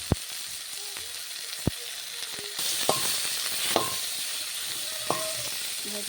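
Boiled cauliflower stalks frying in a pan with oil and salt, giving a continuous sizzle with occasional sharp clicks and scraping stirs, moderately loud and close, with no one talking.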